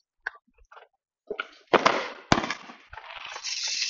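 Family fireworks go off outdoors: a few small scattered pops, then sharp loud bangs followed by rushing, crackling hiss that trails on, with no talking.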